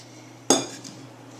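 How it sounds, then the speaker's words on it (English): A fork scrapes and clinks once against a bowl while mixing sugar into flour for gluten-free pumpkin bread. A single sharp close strike fades quickly over a faint steady hum. "I just generally take a fork to mix my ingredients together"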